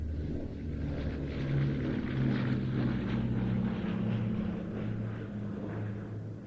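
A Bristol Blenheim Mark I, a rebuilt Bolingbroke Mark IV fitted with a new short nose, drones past at an airshow with a steady, moderately loud propeller-engine hum that swells slightly and fades.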